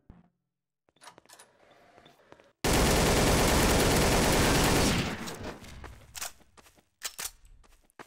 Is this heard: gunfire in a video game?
yes